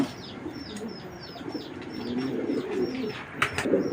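Racing pigeons on a pigeon farm coo softly and repeatedly, with faint chirps and brief wing flutters in a quiet background.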